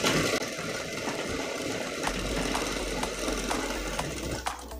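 A sewing machine stitches a double katori blouse, its needle clattering in a steady, fast, continuous run close by with no talking.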